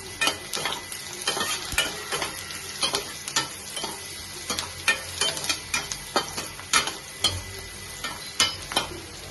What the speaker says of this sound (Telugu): వేసుకొని ఆనియన్ కరివేపాకు వేసుకొని ఫ్రై చేసుకోవాలా